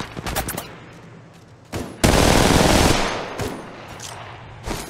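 Gunfire in Apex Legends Mobile: a few sharp shots, then a loud sustained burst of automatic fire lasting about a second, followed by scattered single shots, with no talking.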